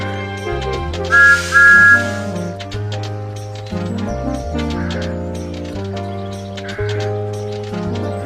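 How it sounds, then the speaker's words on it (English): Thomas the Tank Engine's train whistle sounds as a shrill, sustained two-tone blast over a bouncy children's song backing, loud and clear in a short burst. "This is Thomas's whistle."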